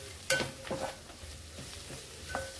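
Green chilli and kokum sautéed in a pan with coriander, a brief soft sizzle with a few spatula scrapes and a faint clink of metal, quiet and close.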